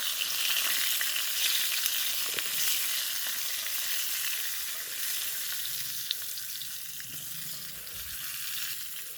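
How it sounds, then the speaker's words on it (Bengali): Pointed gourd pieces with salt and turmeric sizzling in a pan as they are stirred, a continuous close frying hiss with occasional scraping taps. "যত সময় না পটলটা হালকা হালকা লাল লাল ভাজা হয়ে আসছে"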